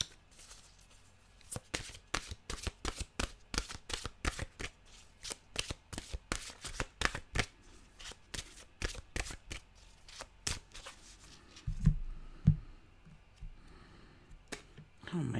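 Deck of mantra cards shuffled by hand in a rapid run of crisp riffling flicks, close and fairly loud, ending with a couple of duller thumps as cards scatter.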